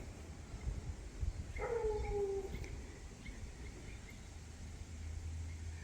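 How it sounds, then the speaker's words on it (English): A neighbour's big dog gives a single drawn-out howling bark in the middle distance, brief and fairly faint over a steady low outdoor hum. "What is that dog barking at?"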